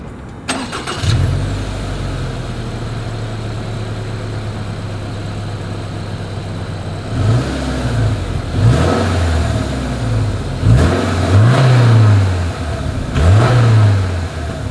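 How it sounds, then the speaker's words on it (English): A 2023 Subaru Outback Onyx Edition exhaust, heard from behind, starts up and settles into a steady idle, then gives a series of sharp throttle blips and revs that rise and fall in quick repeated bursts, loud and close. "As always, here is that exhaust clip."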